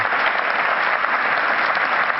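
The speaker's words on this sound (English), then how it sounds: "Please give it up one more round of applause." A large audience applauding after a keynote at Pollstar Live 2016, a dense, steady wash of clapping that stays loud and even throughout, with no other sound standing out.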